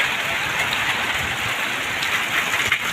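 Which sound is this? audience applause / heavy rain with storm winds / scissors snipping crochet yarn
heavy rain with storm winds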